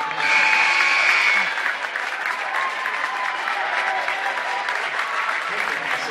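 A home crowd from Pella gives a standing ovation at a high school girls' varsity basketball game, with loud sustained applause and cheering filling the gym.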